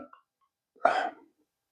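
A single short, sharp hiccup from a person, close and fairly loud, standing alone in an otherwise quiet room after a brief faint noise.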